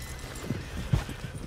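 Horses in the Red Dead Redemption 2 video game shift about, giving a few soft, uneven hoof clops over a faint game background, with no clear neigh standing out.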